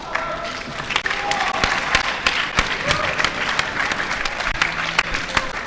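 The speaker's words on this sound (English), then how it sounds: "Give them a round of applause, please." A crowd at a Halo Reach esports final in Blackpool applauds as the Fnatic team is presented on stage, dense continuous clapping with scattered cheers.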